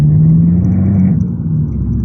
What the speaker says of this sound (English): There's a lot of stones on the road, so I do apologise if you can hear a lot of bumpiness